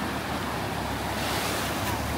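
Sea waves wash onto a beach at low tide as a steady, broad rushing wash mixed with gusty wind buffeting the microphone, with no talking.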